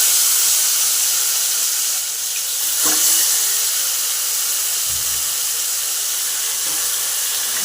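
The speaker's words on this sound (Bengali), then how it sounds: "আমরা এই মাংসগুলো তেলের মধ্যে দিচ্ছি হালকা করে" Marinated chicken pieces lowered into hot mustard oil sizzle in a loud, steady broadband hiss close to the listener, with one brief crackle partway through.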